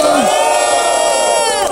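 Loud crowd at a Brazilian freestyle rap battle duel, cheering and shouting continuously in a dense roar for the whole stretch, voices blending with no single speaker standing out.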